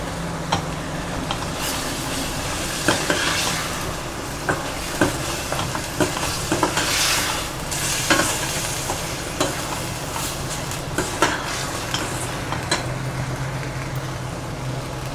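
Cumin hits hot oil in a pan of Chettinad mutton chukka with ginger-garlic paste, giving a continuous sizzle broken by repeated scraping clicks of a spoon stirring, close and steady with no talking.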